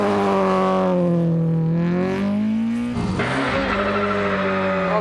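A BMW M3 E30 Group A rally car launches from the start, its engine loud and close, revving and rising in pitch through a gear, then dropping sharply as the next gear engages and building again.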